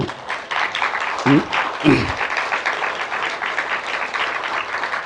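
A congregation at an evening church revival meeting breaks into steady, fairly loud clapping, with a couple of brief voices calling out over it early on.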